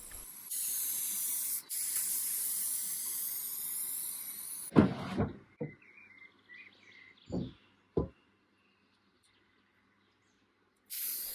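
Lacquer toner hisses from a spray gun onto an old wooden buffet in a few steady bursts, followed by quieter clatter and short pauses, with faint birdsong in the background.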